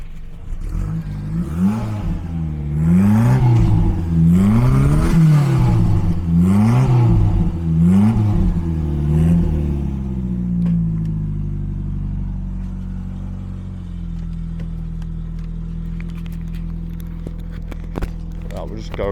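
A 1988 Ford Fiesta XR2 with a Turbo Technics turbocharged 1.6 CVH engine revs repeatedly in close, loud blips, each rising and falling, then settles back to a steady idle.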